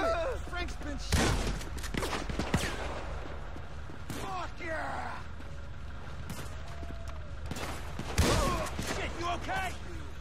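Gunfire in the game GTA V: a few sharp, scattered shots and bursts, fairly distant, amid game sounds and overlapping voices.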